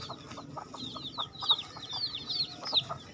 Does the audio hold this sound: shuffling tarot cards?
no